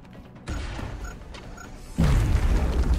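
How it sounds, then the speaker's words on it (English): A grenade bursts with a loud, deep boom in the XCOM Enemy Within strategy game, following a short mechanical rattle and a lighter pop, close and alone with no talk. "Let's toss another grenade at this guy."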